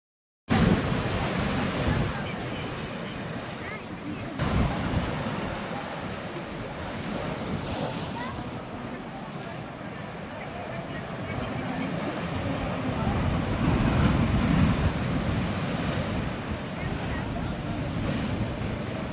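Sea waves rolling onto Old Digha beach at low tide, a continuous broad wash of surf with wind buffeting the microphone and swelling and easing through the clip.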